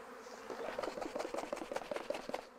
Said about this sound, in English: I'm gonna put our extra bees back in here.